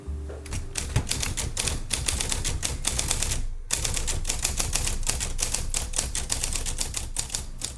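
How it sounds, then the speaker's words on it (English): An electric typewriter clatters continuously with rapid keystrokes over a steady motor hum, a brief pause midway before the typing resumes. "What you're hearing now is the sound of a typewriter."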